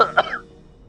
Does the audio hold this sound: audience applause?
no